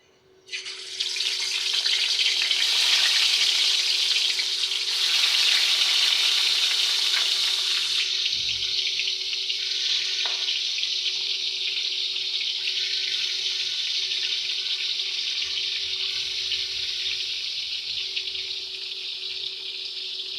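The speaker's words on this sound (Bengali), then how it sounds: "এবার আমি শিং মাছগুলো হালকাভাবে ভেজে নেব" Shing fish (stinging catfish) lightly frying in oil, a loud, continuous hiss and sizzle that starts abruptly and holds steady, easing slightly over time, with occasional faint knocks and no voices.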